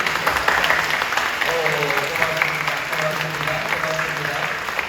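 Church congregation at a Friday night prayer service clapping to welcome the children, a loud continuous patter of hands held at an even level, with a voice speaking over it.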